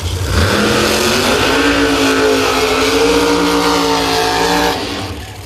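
Pro Mod drag racing car at the Thunder Valley Nationals, a loud, close engine roar that climbs steadily in pitch as it accelerates, then drops away at the end.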